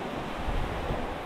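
Sea waves wash in a steady, close rush of surf with wind buffeting the microphone at a beach fishing spot.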